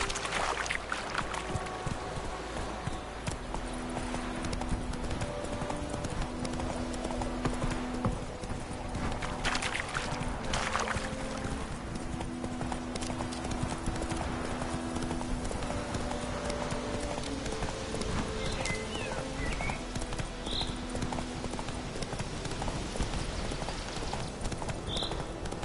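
Roach the horse's hooves clip-clop in a steady, continuous trot in The Witcher 3, moderately close, with faint ambient game sounds behind.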